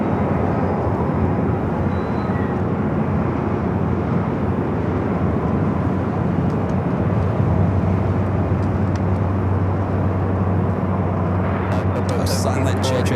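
A nearly year-old Airbus A350 jet departs LAX as a steady, distant roar that thickens in the low end partway through, with someone talking over it.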